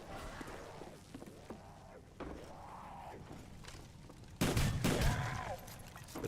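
Zombies bursting apart from a nuke in Black Ops 1 Zombies on PS5: a series of muffled game explosions and thuds, capped by a louder, fuller blast near the end, with no speech.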